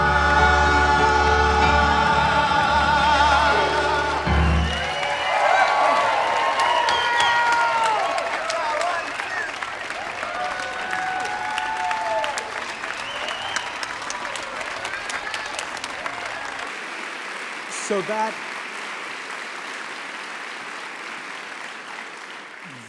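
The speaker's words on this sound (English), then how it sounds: "that round of applause belongs to the Skid Row community" A conference plenary audience breaks into loud applause and cheering, fading gradually over many seconds, with a voice briefly speaking near the end.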